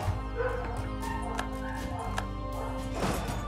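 Dogs bark in the background, with yips and whimpers coming in irregular bursts at moderate loudness over a steady hum.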